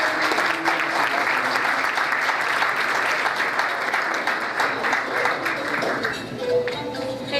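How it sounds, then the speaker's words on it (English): A gala audience at the Canadian Iranian Foundation applauds a speaker: dense, even clapping fills the whole stretch at a steady level and thins slightly near the end. "Please could you give her a big round of applause."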